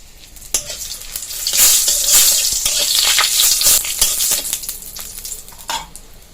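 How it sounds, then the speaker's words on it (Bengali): Bay leaf and three dried chillies sizzle and spit in hot mustard oil in a wok, a loud crackling fry that swells after the first second with scattered sharp pops and stirring clinks, no voices. "কড়াই গরম হয়ে গেছে, কড়াইতে আরেকটু সরষের তেল দিয়ে দিব। তেজপাতা দিয়ে দিলাম, 3টে শুকনো লঙ্কা দিয়ে দিলাম"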